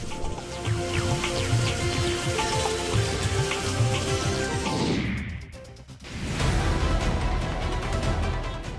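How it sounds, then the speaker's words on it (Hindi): Heavy monsoon downpour in Dhanbad's coal belt, a dense steady hiss of rain that briefly sweeps into a rushing whoosh and dip before the full pour returns. "मूसलाधार बारिश ने लोगों को गर्मी उमस से निजात दिला दी"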